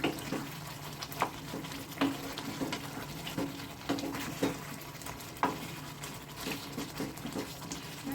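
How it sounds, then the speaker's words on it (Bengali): Chicken curry gravy stirred in a pan, with a faint, steady simmer and soft, irregular spoon scrapes and knocks against the metal, fairly quiet and without talking. "এবার এটাকে ভালো করে নেড়ে চেড়ে দিচ্ছি"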